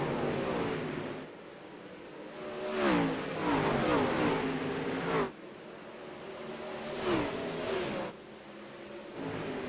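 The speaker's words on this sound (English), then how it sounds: "he is letting all that horsepower run as of right now as he rips the lips around all the way around this racetrack" Sprint cars racing in the iRacing video game, engines roaring loudly and rising and falling in pitch as they pass in repeated waves, with brief quieter gaps between.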